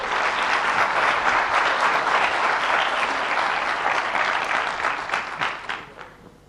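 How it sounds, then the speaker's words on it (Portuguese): An audience at a TEDx talk breaks into dense, sustained clapping that holds steady for several seconds and then tapers off to silence. "Uma salva de palmas para a Graça"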